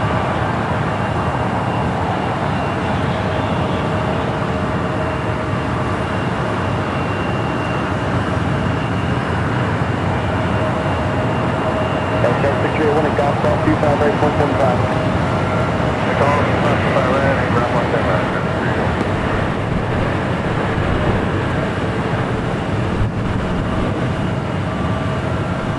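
A 24-year-old Boeing 767-300ER freighter, flight 5900 from Louisville, Kentucky, arrives at Los Angeles airport with a steady, loud jet roar that swells slightly midway, mixed with broad outdoor traffic noise and no clear talk.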